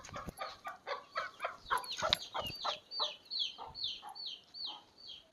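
Repeated clucking from a desi (country) rooster, a steady series of short calls close by with no talking.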